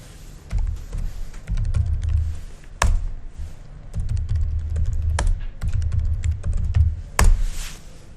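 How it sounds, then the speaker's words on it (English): Fingers type on a computer keyboard while a password is entered at a Linux shell prompt: steady bursts of close, clicky keystrokes with brief pauses and a few sharper key taps, with no voices. "Just keep typing and press enter when you're done."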